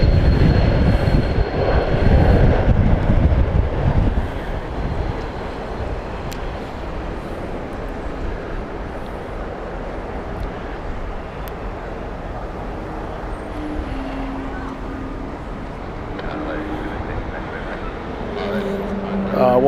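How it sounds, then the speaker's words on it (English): A jet airliner with Pratt & Whitney engines passes at Heathrow Airport, giving a loud, sustained broadband roar that is strongest at first and then holds as a steady rumbling wash. "What a noise those Pratt & Whitney engines make."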